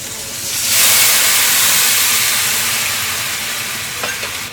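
Rice wine splashed into a hot pan of half-cooked lobster erupts in a loud, steady hiss of sizzling steam that builds within a second and holds, slowly easing, with a couple of faint clinks near the end.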